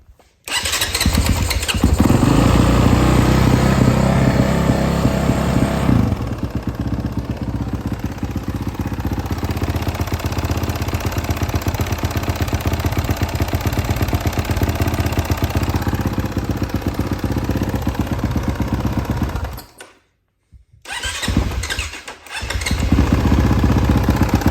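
A 2018 Honda CRF450R dirt bike is started nearby and settles into a loud, continuous single-cylinder idle that runs for about twenty seconds, briefly cuts out, then picks back up.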